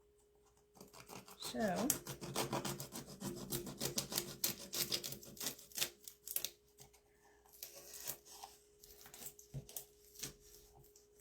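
A styrofoam Easter egg is cut in half, producing rough rasping and rubbing strokes up close, in uneven bursts, while a person talks over parts of it.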